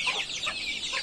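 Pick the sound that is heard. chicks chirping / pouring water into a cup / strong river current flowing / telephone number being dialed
chicks chirping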